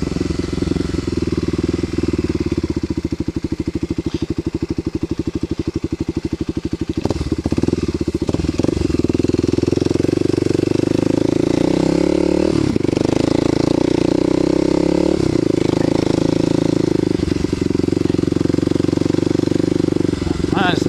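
A Kawasaki KLX250SF motorcycle runs on the first ride of the year, its engine droning loud and steady with rising and falling revs throughout, and a voice speaking over it.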